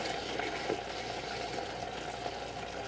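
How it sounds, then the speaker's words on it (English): Cornstarch-thickened sauce bubbling in a pan, a steady soft simmering hiss with faint pops and bursts throughout, fairly quiet and continuous with no voices. "It's slowly thickening. You can hear it bubbling."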